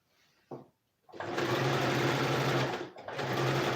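A sewing machine stitching a sleeve runs in a short tap, then a long steady whirring burst, a brief pause and another run, close and loud with no talking.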